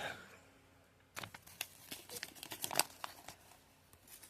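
A sheet of paper is handled and unfolded close up, with soft crinkles and rustles that start after a second of near silence and continue in quiet, irregular bursts.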